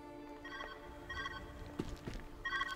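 A video game telephone rings in short repeated electronic bursts, fairly quiet against a low background hum.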